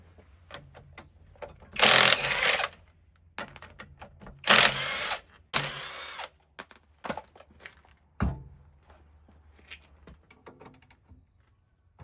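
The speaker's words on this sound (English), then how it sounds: "let's just take this wheel off and then we can swap the rotor and then add the studs" Wheel coming off a BMW E36 during a wheel stud and rotor swap: several loud, harsh mechanical bursts a couple of seconds apart, then scattered clanks and light taps, all close by.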